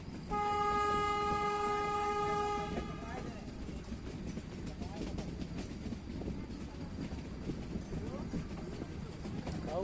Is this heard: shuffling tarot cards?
no